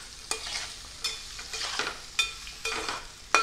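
Thinly sliced potatoes in oil are stirred in a pan with a flat metal spatula, giving repeated scraping strokes in an uneven rhythm over a steady sizzle, close up and with no voices.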